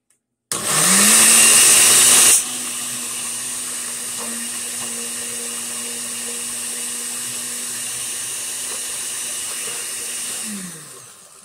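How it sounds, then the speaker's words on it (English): A countertop blender whirs through a tomatillo green dip with a frozen pepper, starting with a loud, bright high whine for about two seconds, then settling into a steady lower drone that runs alone until it winds down near the end. "I'm going to blend it."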